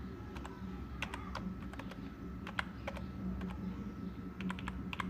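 Typing on a computer keyboard while entering a paragraph for an HTML lesson, with quick irregular clicks in bursts over a steady low hum, close and fairly quiet.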